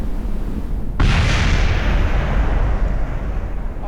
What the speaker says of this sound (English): Oh shoot, this is going to explode.